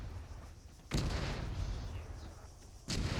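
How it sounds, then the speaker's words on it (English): Mortar shells exploding in ArmA 3, two heavy blasts about two seconds apart, each a sudden loud thump trailing into a rumbling decay over low ambient noise. "Fucking mortars."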